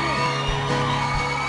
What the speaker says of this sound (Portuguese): Mais aplausos para as duas.